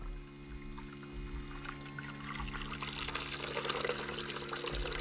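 Old motor oil pours and trickles steadily out of a vehicle wrecked and left for 20 years, draining into a jug with a continuous close liquid splashing and no talking.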